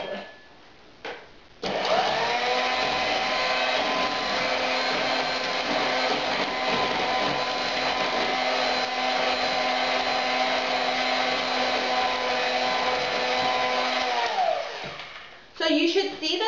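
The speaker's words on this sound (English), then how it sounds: "I'm just going to run the hand blender through it very quickly." A hand blender whirs through a kulfi ice cream mixture flavoured with saffron, a short blip followed by one long steady buzzing run of about thirteen seconds that winds down, close and loud.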